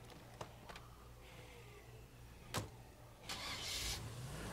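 A car engine starts up in State of Decay 2, with a few faint clicks, a sharp crank, then the engine catching into a louder rising rumble near the end.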